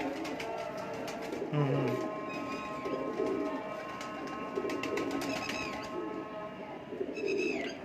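Breeder pigeons in a loft, cocks and hens together, cooing in low, rounded repeated calls amid steady background bird chatter and faint rustling, fairly close and continuous.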